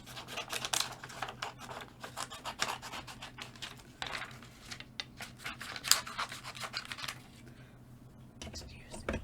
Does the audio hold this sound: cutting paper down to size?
yes